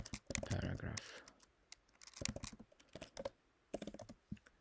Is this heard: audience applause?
no